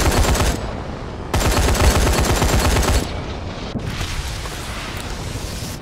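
Loud, dense roar of missile strikes and heavy gunfire in Call of Duty: Advanced Warfare multiplayer, with sustained booming blasts and rapid bursts that swell, drop briefly, then rumble on.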